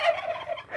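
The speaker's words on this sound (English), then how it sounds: "oh, the turkeys are here" Turkeys gobble outdoors at a house-building site where concrete is being mixed, producing a short, loud burst of rapid warbling calls that lasts under a second.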